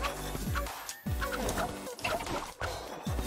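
A cartoonish chicken in the multiplayer video game Wand Wars clucks and squawks in a quick series of short, descending calls, close and fairly quiet, with no talk over it.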